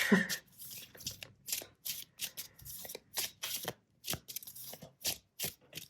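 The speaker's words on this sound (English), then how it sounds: "I just felt like I really wanted to shuffle it well to mix that up" A deck of tarot cards is shuffled by hand, giving a rapid run of crisp riffling bursts with short pauses between them, close and fairly quiet.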